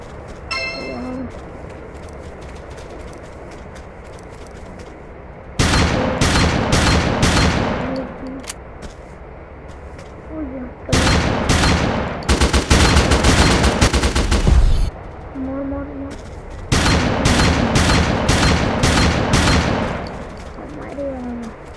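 Rapid automatic gunfire from a video game gun rings out in several sustained loud bursts separated by quieter gaps, with occasional speech in between.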